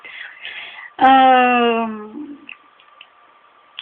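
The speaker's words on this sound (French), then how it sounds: "elle m'a fait son miaou parce qu'elle voulait que je lui donne autre chose à manger" One long, loud cat meow, close and drawn out for about a second, followed by quiet faint background sounds.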